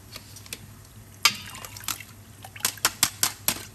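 Water splashes and trickles in short irregular bursts, with sloshing and dripping sounds up close as yellow noodles are rinsed in a basin.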